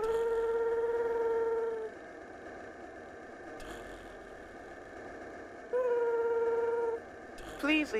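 A human voice imitates a phone ringing, producing two long steady electronic-style tones separated by a quiet pause, clear and close.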